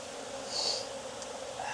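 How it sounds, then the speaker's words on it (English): Bees buzz inside an open backyard hive in Jacksonville, Florida, a soft continuous drone with a faint passing swell, close but quiet. "There's a lot of bees in here"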